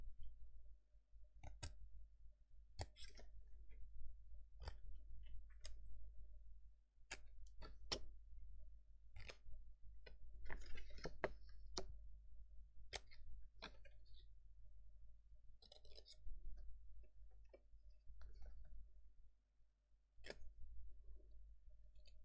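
Scissors snipping paper tabs for a handmade memory notebook folio, a string of sharp, separate close-up cuts at uneven intervals over a low background rumble.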